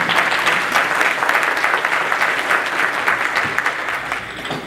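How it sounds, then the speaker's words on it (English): Loud, sustained applause from a conference audience, dense clapping filling the whole moment without a break. "Can we give a round of applause"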